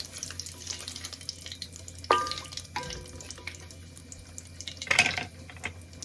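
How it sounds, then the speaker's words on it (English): Cumin stirred gently in a pan for a home-style aloo gobi, with two louder scraping strokes standing out over a faint, steady low hiss. "I'm gonna add in some cumin as well. And then we'll stir this gently."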